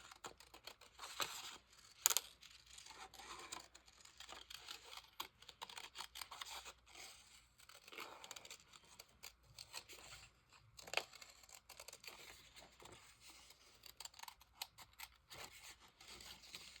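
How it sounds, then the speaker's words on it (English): Scissors fussy cutting around a paper square, a quiet run of small snips and rustling paper strokes spread through the clip, close and soft with no talking. "this one I'm going to fussy cut around"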